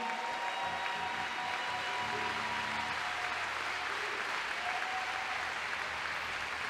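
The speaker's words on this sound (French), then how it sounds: "On applaudit bien fort." Audience applause at a youth exhibition challenge during a French open event in Nantes, a dense, even wash of clapping sustained at steady level with faint tonal background sounds.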